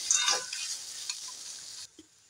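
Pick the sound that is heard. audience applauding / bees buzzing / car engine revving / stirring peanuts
stirring peanuts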